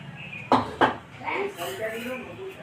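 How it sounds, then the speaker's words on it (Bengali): Two sharp metallic clanks as a heavy wok is set down on a stove for frying rohu fish, followed by a voice speaking quietly. "কড়াই বসিয়ে দিচ্ছি"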